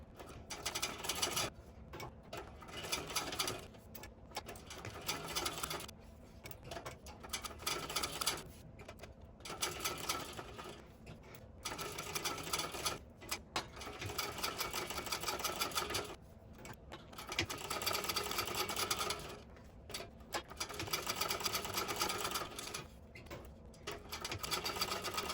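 Sewing machine chain stitching a bag, running in repeated bursts of steady mechanical whirring broken by short stops, fairly quiet and close with no talking.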